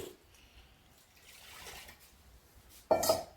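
A brief splash of soaking water pouring into a metal pressure cooker near the end, after quiet kitchen clatter.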